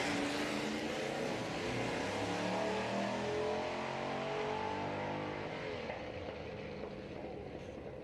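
A 6.4-litre big-block V8 Galaxy race car at a historic sprint meeting in Leyburn, Australia, roars loud and close with a deep, rough engine note that rises and holds steady, then eases slightly as it pulls away.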